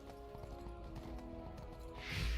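Horse hooves clip-clop steadily while riding in Bless Unleashed, a continuous rhythmic trot heard up close, with an occasional whinny-like tone and a brief louder burst near the end.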